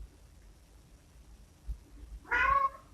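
A pet cat lets out a single drawn-out meow near the end, loud and close, after a stretch of quiet room noise.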